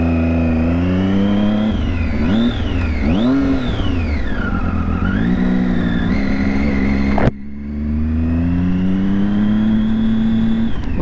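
Sport motorcycle engine revving hard and loud on a newly bought bike, the pitch sweeping up and down through several rises before a sharp break and a steady climbing rev, with no talk.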